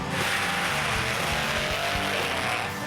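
A monster truck engine roars at a speedway race, a loud, dense, sustained blare with rough low pulsing underneath, heard up close and alone for a few seconds.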